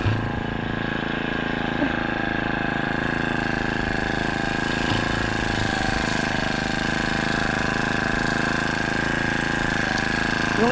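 A grass cutter engine running steadily on a farm between crop rows, a continuous close, loud mechanical drone with a rattling buzz and no pauses.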